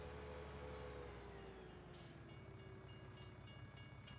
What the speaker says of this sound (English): Are we going to beat the train?